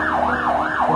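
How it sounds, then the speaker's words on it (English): Emergency sirens wail in Beirut after a massive explosion, a loud rising-and-falling tone sweeping in rapid repeated cycles close by, with a low traffic rumble beneath. "A night of horror in Beirut, with sirens blaring into the next morning."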